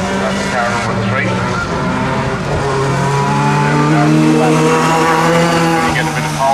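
Race cars roar down the back straight of a circuit during a class race, engines droning loudly and steadily, with a commentator talking over them.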